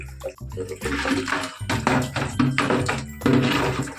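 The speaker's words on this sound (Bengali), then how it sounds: "এই যে দেখো এখানে জল পড়ছে বসিয়ে দিলাম" Municipal tap water runs steadily into a container in a home kitchen, giving a continuous, fairly loud splashing and gushing stream for the whole stretch, with brief dips in intensity.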